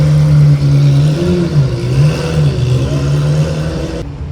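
A Ferrari engine revs at a car show, a loud, steady mid-pitched drone with rising and falling pitch swells, ending abruptly.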